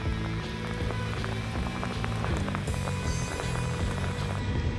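Rain pattering steadily on an Arizona desert trail during an off-road trip, a continuous dense hiss of drops layered over a low rhythmic engine drone and rattle, with no one speaking.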